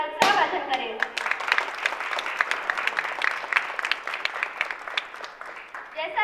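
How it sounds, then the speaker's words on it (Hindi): Scattered clapping and applause at a gram panchayat village assembly meeting, a dense run of hand claps that starts abruptly and continues steadily for several seconds, fairly close and loud. "तालियों से हमारा उत्साहवर्धन करें।"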